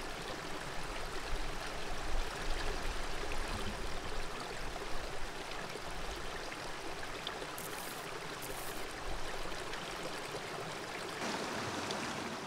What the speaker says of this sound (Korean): 물소리 들으며 잠시 쉬어가라 합니다.